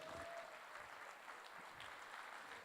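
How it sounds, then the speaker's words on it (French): Applause at a festival gala awards evening, a very faint, distant and continuous patter of many hands clapping across the hall. "Je vous demande de les applaudir."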